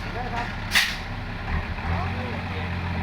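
A Hino truck lets out one sharp hiss of its air brake, short and fairly loud, over a steady low engine rumble, with people talking nearby.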